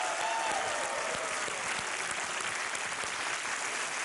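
Studio audience applause welcoming contestants on a television quiz show, a steady wash of many hands clapping at moderate level, joined briefly by a faint rising musical tone near the start.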